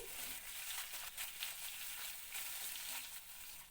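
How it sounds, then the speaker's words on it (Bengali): Koi fish frying in oil, a soft, continuous sizzle with crackling bursts, heard close and fairly faint with no voices. "এতে আমি বাকি মাছটা ভেজে নেব"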